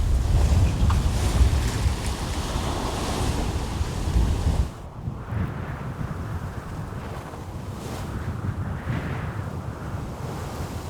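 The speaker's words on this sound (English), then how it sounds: "the sea state and wind picked up a little bit, especially the sea state" Wind and surging North Atlantic waves around a solo sailboat in a building sea, a loud steady rush of water and wind noise that drops slightly midway, with no talking.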